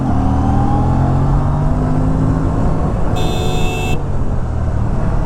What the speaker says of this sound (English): this is the last time you are hearing the stock exhaust note through my mic in my videos